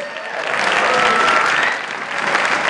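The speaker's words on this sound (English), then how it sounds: "Give him another round of applause" Steady applause from a live studio audience fills the space right after a drum performance on a local channel's live show, loud and sustained, swelling then dipping briefly before continuing.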